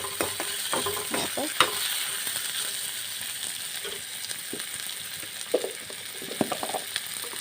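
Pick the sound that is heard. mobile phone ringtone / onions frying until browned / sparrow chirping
onions frying until browned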